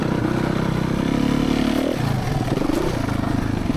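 A Suzuki RMZ450 dirt bike pulls hard in third gear, its single-cylinder engine buzzing loud and close, rising in pitch then dipping and climbing again with chain and chassis clatter.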